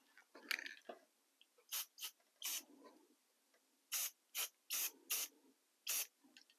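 A can of matte spray mists a model railroad car in a series of about ten short, sharp hissing bursts with brief pauses between them, close and fairly clear.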